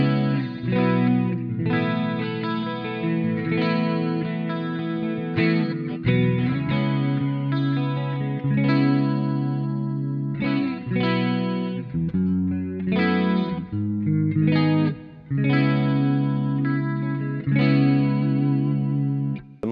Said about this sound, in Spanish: activamos el Hall of Fame 2 y tenemos un poco de reverb